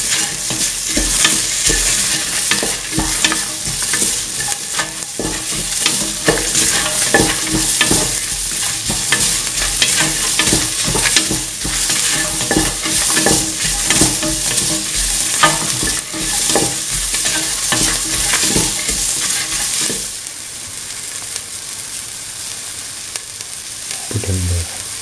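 A spoon works through a cauliflower and bell pepper stew with coconut milk as it sizzles in the pot, loud and close, with steady scraping strokes over constant frying hiss that thins out near the end.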